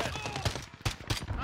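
Pistol fire in Call of Duty on the hardcore Shipment map: several sharp, loud shots in quick uneven succession, close and punchy, mixed with other game noise.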